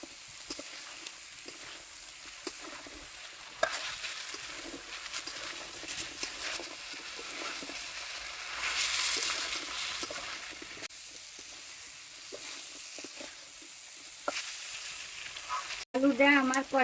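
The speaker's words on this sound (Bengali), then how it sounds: "আলুটা আমার কষাইনে হয়ে গেছে" Diced potatoes sauté in a hot pan for a Bengali singara filling, giving a steady close sizzle and frying crackle with occasional scrapes and stirs, which swell briefly midway before a sharper clatter near the end.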